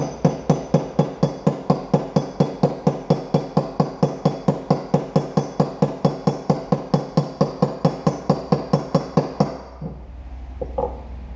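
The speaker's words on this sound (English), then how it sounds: "I'm just driving it down in there, as you can see, not trying to kill it, just nice easy taps." Steady, even hammer taps driving a front wheel bearing into a YFZ 450 ATV hub, about four sharp metallic strikes per second, close and clear, ending after roughly nine seconds with a short scrape.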